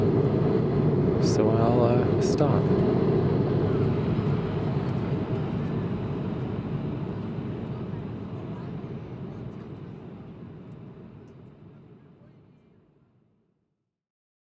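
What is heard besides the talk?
airplane cabin engine noise in flight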